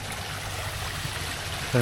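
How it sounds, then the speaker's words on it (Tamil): Water rushes steadily through a small farm channel, a close, continuous gushing like a little waterfall, with a voice starting at the very end. "தண்ணி சத்தத்தை பாருங்கள் அருவி சத்தம் மாதிரி"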